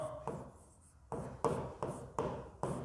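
Marker or chalk strokes scratching across a board while maths values are written down, a series of short, soft rubbing bursts in an irregular rhythm, close and quiet with no talking.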